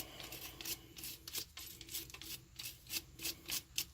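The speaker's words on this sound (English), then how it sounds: "take good old AP brush, and I'll go ahead and give it a dry wipe down. Get all this dirt and grime out of there" A brush dry-scrubbing dirt, mud and cobwebs off a polymer pistol frame, making a series of soft, rhythmic scratchy bristle strokes, close and fairly quiet, with no talking.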